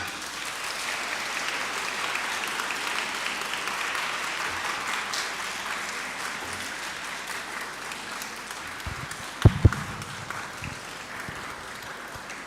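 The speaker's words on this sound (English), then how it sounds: "Thank you so much for the applause." Audience applause fills a school Model United Nations opening ceremony hall after the conference is declared open, a steady dense roar of many hands that continues throughout with a couple of brief louder knocks near the end.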